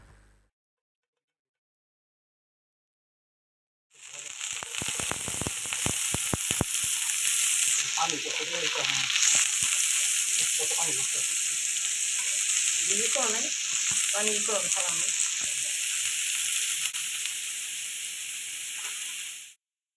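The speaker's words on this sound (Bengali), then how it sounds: "ঘিয়ের মধ্যে 1 চা চামচ রসুন কুচি দিয়ে দিলাম।" Chopped garlic hits hot ghee after a silent start and breaks into a loud, steady sizzle that keeps going, with brief stirring scrapes and a few faint voice-like sounds mixed in before it cuts off.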